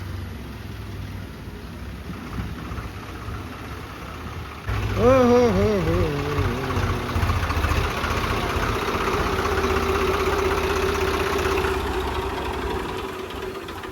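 A tractor hauling maize, stuck, idles with a low, steady rumble that grows louder partway through, while a voice calls out short repeated shouts.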